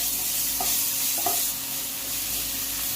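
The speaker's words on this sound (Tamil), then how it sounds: "இஞ்சி பூண்டு பேஸ்ட் போட்டு நல்லா வதக்கிக்கலாம்." Ginger garlic paste sizzles steadily in a hot pan for egg curry, a continuous frying hiss with a couple of brief stirring scrapes, close and moderately loud with no talking.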